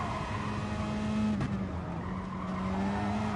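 A race car engine droning with a high steady whine, slightly shifting pitch, heard at a distance with wind-like background noise.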